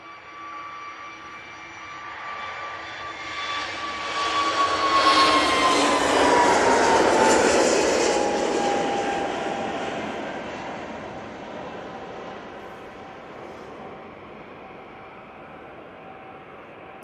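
A Jet2 Airbus A321neo airliner departs Manchester Airport, its engine roar swelling from a distant whine to a loud, full rush as it passes, then slowly fading with a falling tone, heard alone without talk.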